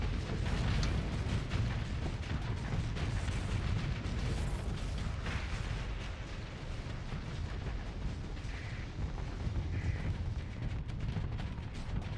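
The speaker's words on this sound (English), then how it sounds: "There's a ridiculous amount of missiles that keep going at him." Missiles striking a ship in the space game Starsector, a dense, continuous barrage of muffled explosions and bursts at moderate volume with no talking.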